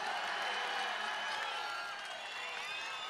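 A large audience at an NTR 100 years celebration claps and cheers for Rajinikanth, a dense, continuous wash of applause from a big crowd at steady volume throughout.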